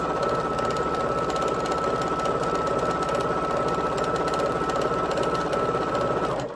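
A Pfaff Grand Quilter sewing machine stitching a quilt runs loud and close, a fast steady mechanical whirring and rattling chatter that continues without pause, with no talking.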